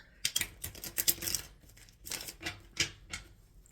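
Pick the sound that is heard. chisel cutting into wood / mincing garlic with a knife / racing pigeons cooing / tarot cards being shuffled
tarot cards being shuffled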